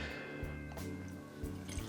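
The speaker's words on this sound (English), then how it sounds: "I'm going to pour just a little bit more here" Whiskey is poured into a glass, a faint trickle and soft drips close by with no talk over it.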